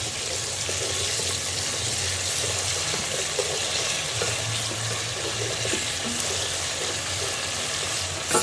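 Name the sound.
stirring Nigerian efo riro vegetable soup in pot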